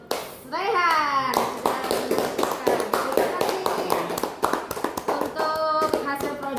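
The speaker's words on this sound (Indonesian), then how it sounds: "kita beri aplaus untuk Rehan" Applause for a student after his presentation in a school classroom, a burst of clapping from many hands that starts sharply, holds steady and loud for several seconds, with children's voices chattering underneath.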